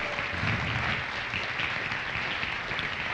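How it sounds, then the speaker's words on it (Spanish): A church congregation applauds in a sustained, even roar of clapping, many hands together at moderate loudness, with no talking over it. "Dame un aplauso fuerte al Señor."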